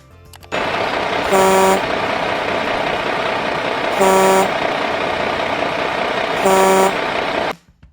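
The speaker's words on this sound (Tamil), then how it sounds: "இது சரக்குந்து இதன் சத்தத்தை கேளுங்கள்" A truck engine rumbles steadily at idle while its horn sounds three times in long, evenly spaced blasts, loud and close, with no other sounds.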